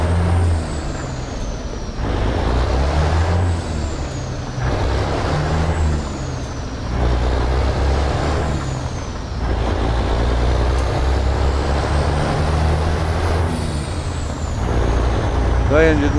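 350 horsepower truck engine pulling through repeated gear changes, deep rumbling revs rising and dropping in a steady pattern, loud and close.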